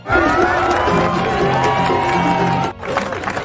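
A village crowd cheers and shouts in welcome for arriving tourists in a film, a loud, dense wall of voices that cuts out briefly near the end before resuming.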